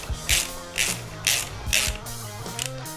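A wrench tightens bolts while advance suspension is fitted to a Yamaha Xmax scooter, giving a series of short, close ratcheting clicks in about six quick bursts.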